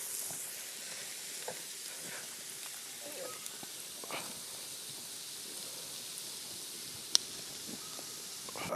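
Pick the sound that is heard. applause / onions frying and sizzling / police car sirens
onions frying and sizzling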